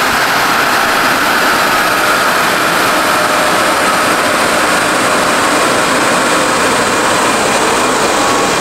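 An Audi 3.0 TDI diesel engine after software tuning runs with a loud, steady, rough drone that holds an even level throughout, close to the microphone, with no distinct rev swells and no speech.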